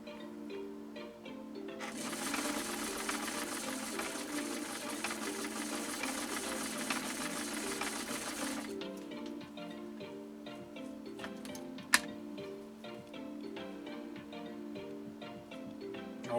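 A 1972 Kenmore 1318 sewing machine stitching polyester ribbon with a stretch blind hem stitch, a steady rhythmic ticking hum that runs a fast, louder burst midway before settling back to a slower, even pace.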